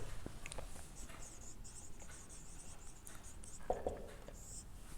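Handwriting during a math lecture on inner product spaces, soft scratchy pen strokes in short bursts, faint and close, over a quiet room hiss.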